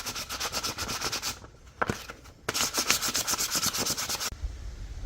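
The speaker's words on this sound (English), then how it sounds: "I'm gonna go ahead and sand it now." Hand sanding of a wooden guitar body gives rhythmic, close rasping strokes in quick back-and-forth bursts, pausing briefly midway before resuming, with no voices.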